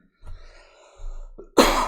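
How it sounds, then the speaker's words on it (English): A single sharp, close cough bursts out at the end of a quiet stretch of faint low background noise during a game livestream. "I was trying to make it to the end without coughing."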